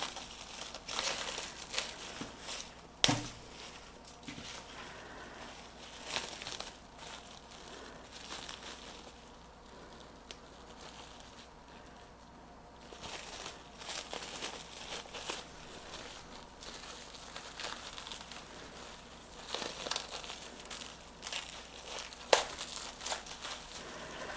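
Saran plastic wrap crinkles and crackles as it is peeled off an air-layered monstera stem, with dense, close rustling bursts, a few sharper tearing snaps, and a quieter lull midway.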